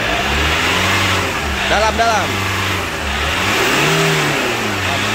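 A Chevrolet Captiva diesel engine revs up and settles after a water pump replacement, a loud near mid-pitched roar with a throttle blip in the middle, while someone speaks briefly over it.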